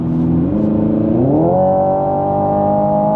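Hyundai Ioniq 5N electric car accelerating hard in sport mode, its loud synthetic engine tone climbing in stepped pitch rises, as if shifting gears, then holding a steady high whine, with no talking.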